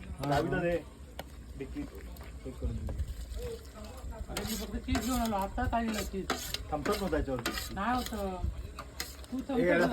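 A spoon stirs Champaran mutton in a pot with a steady scraping, clattering rhythm under a faint sizzle, while people talk over it throughout.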